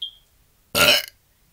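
A single loud burp, about a third of a second long, stands alone after a brief faint tone, with silence around it.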